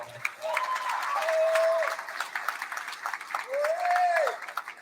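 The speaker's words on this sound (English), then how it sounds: "So let's give Corey a round of applause." Audience applause at a 2021 kayak bass fishing national championship awards ceremony in Shreveport-Bossier, Louisiana, a steady wash of clapping from a crowd, with tonal sweeps riding over it throughout.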